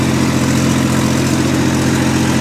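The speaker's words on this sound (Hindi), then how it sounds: "पूरी कोशिश कर रहा है ट्रैक्टर उठने की" A tractor engine labours under heavy load while the front end tries to lift, giving a loud, steady low droning roar that holds without a break.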